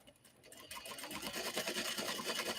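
A sewing machine stitches kimono fabric for a clutch wallet, its fast, steady mechanical whirr starting softly and running continuously, close by and fairly quiet.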